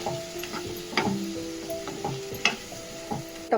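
Capsicum, onion and tomato sabji with curd and peanut powder being stirred in a pan over a low flame, with a steady soft sizzle broken by occasional scraping strokes of a spoon.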